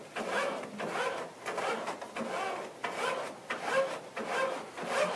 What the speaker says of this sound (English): go ahead and feed the paper through the top of the printer